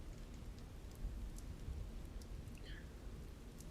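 Soft, steady rainfall in the Witch on the Holy Night game makes a faint, even hiss with a few scattered drop taps, quiet and continuous with no voices.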